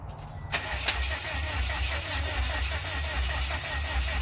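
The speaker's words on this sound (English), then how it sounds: "Colton, tell me what that clicking is when I'm trying to start it." A 2006 Subaru WRX being started, with the engine cranking and catching into a loud, steady close-up run broken by a few sharp clicks, and no voices.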